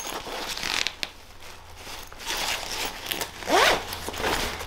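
A zipper on a gym bag pocket, heard as a short, sharp rasping pull near the end, close and loud over faint room noise.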